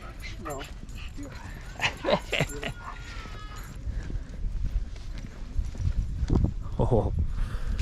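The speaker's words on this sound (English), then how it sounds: "look, there's a dog up here too" A dog on a Grand Canyon hiking trail gives a few yips and barks amid footsteps and hoof-like clopping, with people talking throughout.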